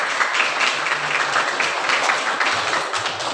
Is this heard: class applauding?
yes